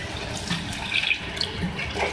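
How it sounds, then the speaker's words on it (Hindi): Water is poured into a pan of cooking masala with tomatoes for chicken karahi, a brief, gentle splashing and gurgling at moderate volume. "इसमें मैं पानी ऐड कर रही हूँ।"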